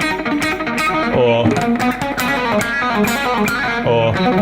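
Distorted electric guitar lick, fast bright phrases with sustained bends, loud and up front with no talking.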